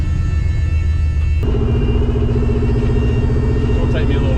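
A 1969 Valiant being driven, its engine a loud steady close rumble throughout that steps up in pitch partway through, with a voice talking over it.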